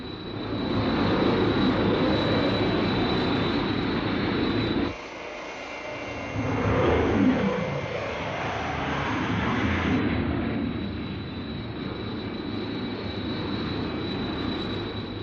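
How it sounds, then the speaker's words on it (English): Steady, loud aircraft engine roar of Captain Scarlet's jet flying past, with a brief dip partway through and a sweeping shift in pitch as it passes, continuing without speech. "Have visual contact with Captain Scarlet's jet."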